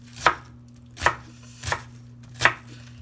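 A knife chops an onion on a cutting board, four distinct crisp thuds spaced about a second apart, close and fairly quiet with no talk.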